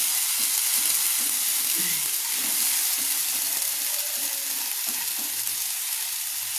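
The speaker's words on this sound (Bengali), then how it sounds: "সেগুলো আমি পেঁয়াজ পেস্টের উপর দিয়ে দিলাম, মশলার উপর দিয়ে দিলাম। দিয়ে আমি আবার নেড়ে নিচ্ছি।" Sizzling and frying in a pan as ground paste and spices are stirred over onion paste for a prawn malai curry, a constant hiss with soft scraping stirs recurring throughout, no talking.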